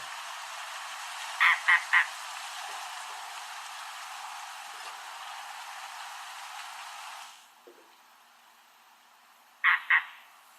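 Frog-like bird call recorded in Florida Keys mangroves at Dry Tortugas: two bursts of three quick croaking notes each, well apart, over faint background hiss with a few soft distant clicks.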